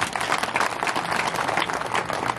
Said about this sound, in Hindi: एक बार खुद के लिए एक बार जोरदार तालियां बजा दीजिए